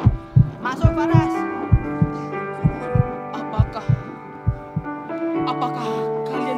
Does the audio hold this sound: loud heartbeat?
yes